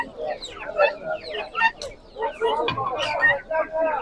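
Chickens at the Sabunchu poultry market in Baku, among them Brahma hens and roosters, clucking in a busy run of short, overlapping calls close by, with a faint murmur of the market underneath.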